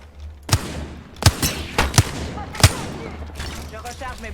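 Gunfire in Halo comes as several sharp, loud shots spaced irregularly over a steady background rumble, followed by a softer stretch near the end.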